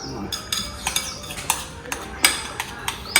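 A spoon stirring potatoes for butter-baked potatoes, knocking and scraping against the pan in a quick run of about a dozen light, close clinks over a soft background, with no voices.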